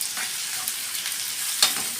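Brinjal frying in a pan while being stirred gently, a continuous soft sizzle with a sharper scrape or clink near the end, no voices.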